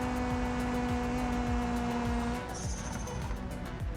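Modded Pigeon K-Performance car in BeamNG, its engine buzzing with a steady high whine, then a shift as tires squeal briefly and the engine note drops, with rhythmic ticking pulses underneath throughout.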